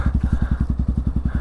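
A motorcycle engine runs at low, steady revs with a rapid, even pulsing thump, the rider working the clutch through the friction zone; close and fairly loud, with no talking.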